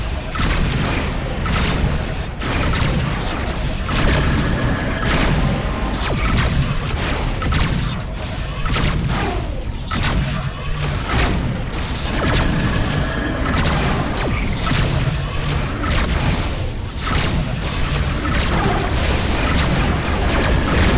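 Pulse cannon and laser fire from a spaceship in the space-combat game Rebel Galaxy thumps and booms almost nonstop, dense overlapping blasts and crashes filling the space at high volume.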